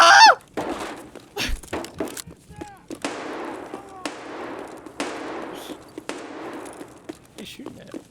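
Single sharp gunshots in a video game crack out about once a second, each trailing a reverberant echo, with voices talking and shouting over them.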